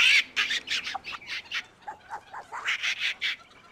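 A voice actor imitates capuchin monkey cheeps, a rapid series of bright, squawky bird-like chirps in two close bursts, loud and near.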